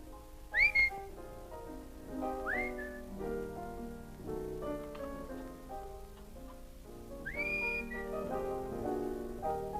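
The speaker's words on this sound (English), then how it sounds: "How do you expect me to whistle through a toothache?" Someone whistles a melodic tune with rising slides, fairly quiet and close, over soft musical backing, in a 1949 film noir.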